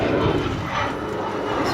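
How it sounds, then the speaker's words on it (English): Airplane passing overhead near Ronald Reagan Airport, heard from a pedal boat on the water as a steady, loud broadband engine roar that fills the whole clip, with no talk. "There's the airplane."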